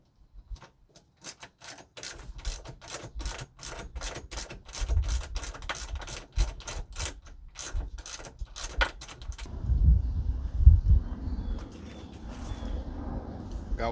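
Rapid, evenly spaced mechanical clicks rattle from a tool working bolts loose on school bus seats, a steady run that stops and gives way to clunks and low rumbling as a seat is shifted.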